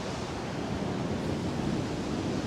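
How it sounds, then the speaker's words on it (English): Choppy sea surf on a stormy winter morning on the UK coast, a steady broad wash of breaking waves with wind rumble, continuous and fairly distant, no voices. "Sea's very choppy"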